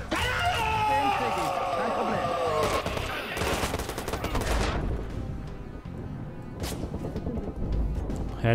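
Sniper and other gunfire in the video game Watch_Dogs, a few sharp shots and bursts mixed with game music and effects, close and fairly loud, with someone talking over part of it.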